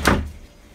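A kitchen door opens during a rainy day, one quick loud clack and scrape at the start, followed by quiet room tone.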